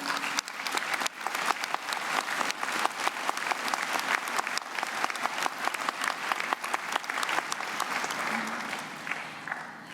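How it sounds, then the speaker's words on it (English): A graduation audience at Clovis Community College applauds its faculty and staff, steady dense clapping from a large crowd that holds for the full stretch without any talk. "join me in a round of applause to acknowledge these dedicated people"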